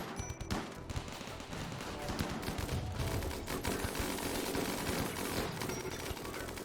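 Turret gunfire in the game Rimworld crackles in a dense, continuous barrage of rapid shots with loud, overlapping bursts throughout.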